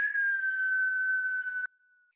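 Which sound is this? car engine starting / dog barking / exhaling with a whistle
exhaling with a whistle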